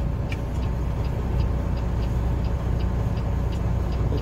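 A truck rumbles along the road with a steady, low engine drone and tire noise, fairly close and loud, accompanied by a regular light ticking like a turn signal clicking throughout.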